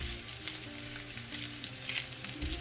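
A veggie pancake is pressed flat in a hot pan and fries with a loud, continuous sizzle, close up and unbroken by speech.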